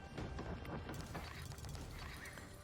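Horses neigh and whinny in the Age of Empires IV real-time strategy game during a late-game 1v1 match, with clip-clop and battle clatter underneath, loud and continuous throughout with no one speaking.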